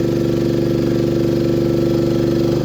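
A manlift's engine runs steadily throughout while the platform lowers toward the ground, a loud, close, even mid-pitched idle-like drone with a regular low throb and no speech.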